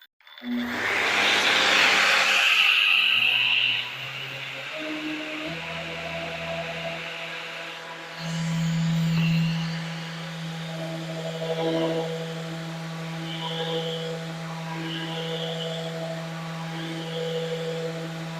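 A Festool sander spins up with its speed control turned up, a loud whirring rush that settles into a smooth steady hum with a sustained tonal drone, running close and continuously for the length of the clip.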